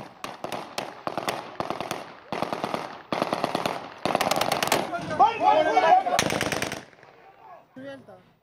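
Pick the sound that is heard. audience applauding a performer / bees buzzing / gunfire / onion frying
gunfire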